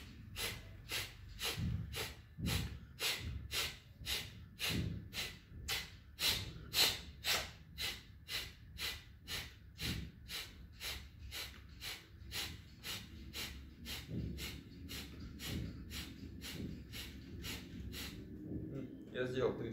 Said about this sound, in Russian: для улучшения дыхания можно сделать капалабхати отдельно через каждую ноздрю по 18 или 6 раз